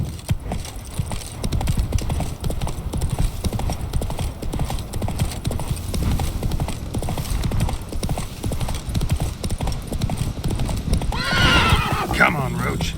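Roach, a horse in The Witcher 3, gallops with steady clip-clop hoofbeats throughout, then gives a loud whinnying neigh near the end, with a voice speaking over the ride.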